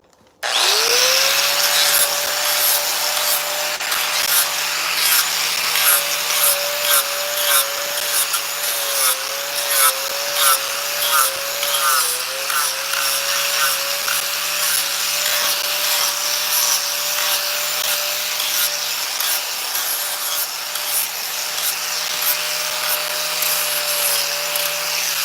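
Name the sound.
4.5-inch angle grinder carving wooden morel mushroom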